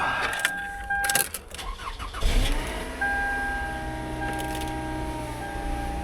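A used car's engine cranks, catches and settles into a steady idle with a slight rattle. Close and loud, with a few sharp clicks near the start and a constant mechanical hum after.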